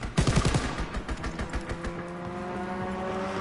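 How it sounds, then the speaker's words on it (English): Strafing-run machine gun fire in Call of Duty WWII, a loud rapid burst of shots in the first second that fades into a lingering engine-like drone. "Strafing run inbound."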